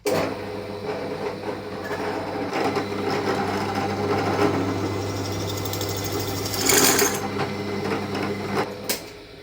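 A power tool, likely a drill, whines steadily while making holes in a pipe for a homemade fog machine, a continuous loud motor drone with a few brief bursts of grinding near the end.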